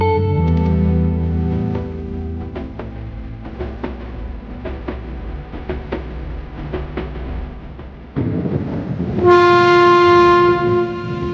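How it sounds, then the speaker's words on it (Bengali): Rumbling train at Sealdah station in Kolkata with rhythmic clacks of wheels over rail joints, then a loud sustained horn blares near the end. "শিয়ালদা রেলওয়ে স্টেশন কলকাতার এক অন্যতম ব্যস্ত ও গুরুত্বপূর্ণ এই স্টেশন"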